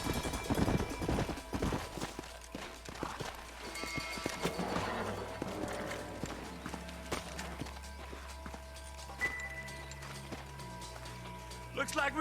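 Several horses walk at a steady pace in an Old West setting, their hooves clip-clopping throughout, mixed with music and other scene sounds.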